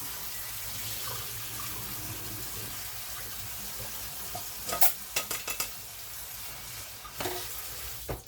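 Rice being washed in a sieve under running water, a steady close rush of tap water with grains swishing and a few sharp clinks of the sieve partway through, no talking.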